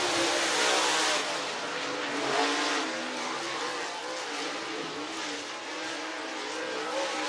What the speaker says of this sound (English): Burwell and Hammett on the speedway.